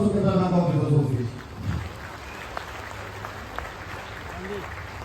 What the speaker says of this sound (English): Bring your applause to Canara Bank Office Association.